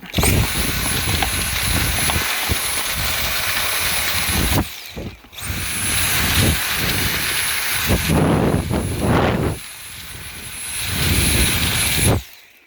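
Dyson V7 Trigger cordless vacuum running on max suction with an extended brush while cleaning a car interior, a loud steady high-pitched whine with rushing airflow, briefly cut off twice and shifting as the nozzle moves over surfaces.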